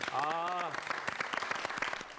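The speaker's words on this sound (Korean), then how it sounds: "박수 한번 주세요." Studio audience claps for a virtual reality demo participant, with a brief voice at the start over moderate, slightly uneven applause.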